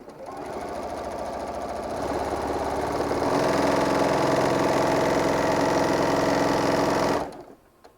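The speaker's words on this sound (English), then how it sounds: "I'm just going to sew right down this line, and I'm just going to grab the next one, sew down that line, and just keep feeding them through" A sewing machine stitches quilt panel pieces in a steady, close, rapid mechanical whir that picks up speed and loudness partway through, then stops abruptly near the end, with no talking.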